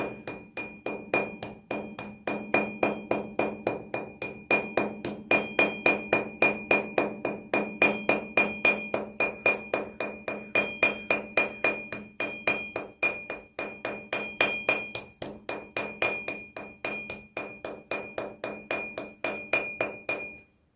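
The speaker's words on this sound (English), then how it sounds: "Especially with the softer metal, you'll notice I'm doing very, very light strikes." Light, steady hammer taps on a soft copper rivet while peening leather to metal, a long, even series of quick, close metallic strikes with a faint ringing tone and no talking.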